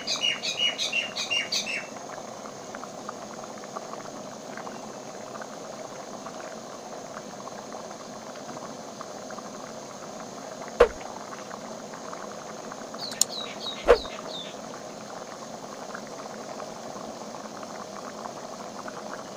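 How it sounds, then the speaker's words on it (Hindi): Zarda rice cooking in a pot until its water dries out, a soft steady bubbling simmer throughout, with faint bird chirps early on and a couple of sharp clicks. "अब मैं इसका पानी खुश्क होने तक इसे पकने दूँगी।"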